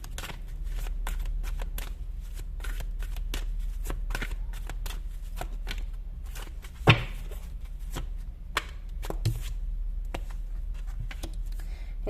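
Tarot cards shuffled by hand, rapid soft riffling and flicking clicks continuing steadily and close, with a few sharper taps of cards striking together.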